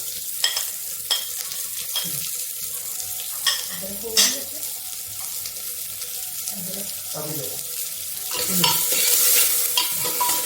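Onion and green chilli frying on a gas stove, a steady hissing sizzle with close intermittent stirring scrapes, swelling louder near the end, and a voice speaking briefly underneath.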